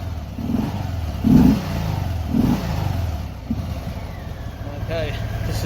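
The engine of a Harley-Davidson Sport Glide motorcycle idles low and steady at about 1,000 RPM after warming up, with a couple of brief swells. Someone talks over it throughout.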